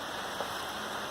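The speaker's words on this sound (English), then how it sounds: "sorry about the background noise, it's raining a bit." Steady rain falls outdoors, a constant soft hiss with a faint patter of drops, even and unbroken and with no voices over it.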